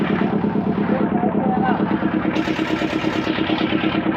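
A shallow-machine engine drives a boat with a continuous close mechanical drone and rattle; a voice briefly speaks over the engine.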